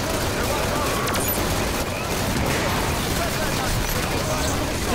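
Heavy, continuous gunfire and blasts in Halo, a dense, loud barrage of shots blending into a constant roar, with voices talking underneath.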